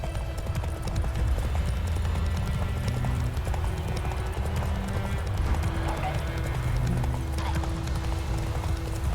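Hooves of the horse Roach clip-clop steadily on a road in The Witcher 3, with a few whinnies, under continuous game ambience and low music.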